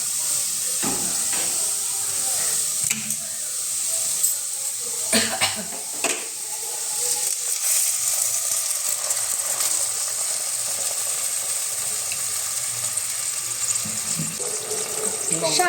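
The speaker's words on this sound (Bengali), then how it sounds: "এবার এখানে দিয়ে দেব পরিমাণ মতো জল।" Water poured into a pan of potatoes frying in oil for a Bengali aloo posto produces a steady hiss and sizzle across the whole stretch, with a few sharp clatters and knocks, and no talking.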